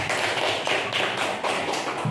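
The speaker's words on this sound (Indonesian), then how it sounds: "sekali lagi beri tepuk yang meriah untuk kita semua Bapak Ibu saudara" Audience applause at the close of a dissemination meeting, a dense, steady wash of many hands clapping that fills the room without a break, close and fairly loud, with no voices over it.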